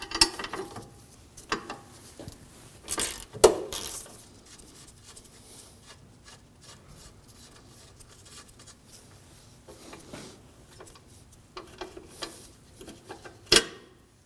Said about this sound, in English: Loosen the nut holding the sway bar link to the control arm with a 14mm socket and wrench.